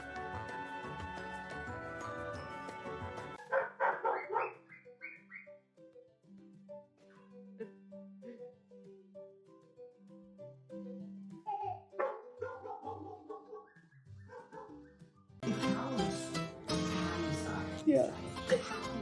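A puppy gives soft barks and whimpering yips beside a baby indoors, the small sounds scattered between stretches of music and quiet.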